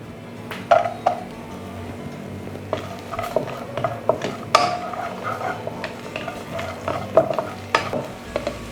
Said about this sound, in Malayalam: നെയ്യൊന്ന് ചൂടായതിന് നമ്മൾ കാഷ്നട്ടും കിസ്മിസും ഒന്ന് ഫ്രൈ ചെയ്തെടുക്കുകയാണ്